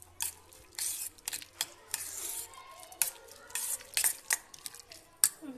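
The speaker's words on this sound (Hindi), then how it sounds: "और इसमें डालिए मेयोनीज क्रीम, इसे कर लिया अच्छे से मिक्स।" A spoon stirs mayonnaise cream through ingredients in a bowl, making soft, wet squelches and scraping clicks in irregular bursts, fairly close and quiet.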